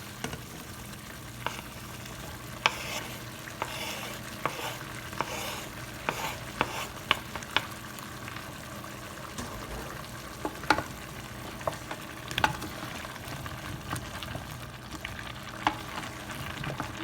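Chopped onion frying in a pan for a vegan curry, a steady low sizzle broken by scattered clicks and scrapes of stirring, close by, with no voices.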